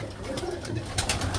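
Pigeons coo softly in a loft, with low throaty murmurs repeating close by over a constant background rustle and a few brief flutters.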